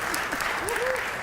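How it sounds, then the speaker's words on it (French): An audience at a religious gathering claps in brief continuous applause, heard over a voice speaking. "Jocelyne, on l'applaudit tout le monde"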